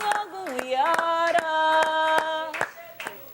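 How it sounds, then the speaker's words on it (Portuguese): Rhythmic audience hand claps keep a steady beat beneath a sustained singing voice, close and fairly loud. "Mas se tiverem mãos, batam palmas, por favor."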